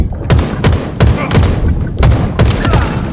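Sniper rifle fire in the shooter game Halo Infinite: around six loud, close, booming shots spaced roughly half a second apart, each with a short decaying tail.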